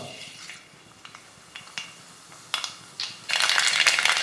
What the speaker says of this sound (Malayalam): അപ്പോൾ കടുക് പൊട്ടി വന്നിട്ടുണ്ട്